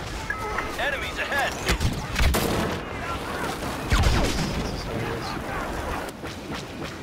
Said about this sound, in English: I've got an orbital strike